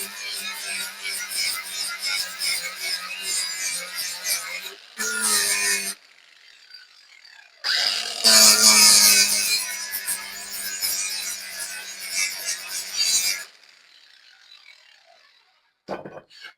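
An angle grinder cuts away excess wood in a shop, a loud, close, rasping whir that runs in long passes with short pauses between them.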